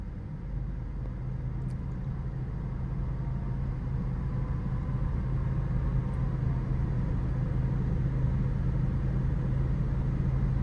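A car creeps slowly on half clutch with a steady low engine rumble and road noise from inside the cabin, even and unbroken throughout, with no talking.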